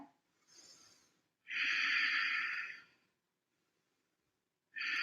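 Slow, deep breathing during a floor-based yoga pose, with a long drawn breath in the middle and another starting at the end, close and fairly quiet with no talking.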